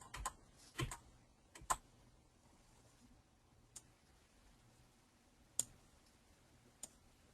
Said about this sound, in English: And make sure these are lined up with my arrow keys.